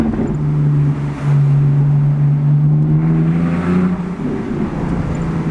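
A BMW Z4 engine revs hard while accelerating through a small walled village, a loud close droning note that climbs, dips at a gear change, then pulls again, echoing off buildings either side.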